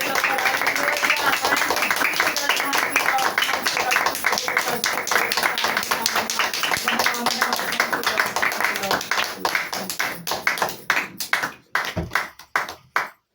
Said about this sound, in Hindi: हम सब एक बार सर्वशक्तिमान पिता परमेश्वर के लिए, प्रभु यीशु मसीह के लिए, जोरदार ताली से धन्यवाद करते हैं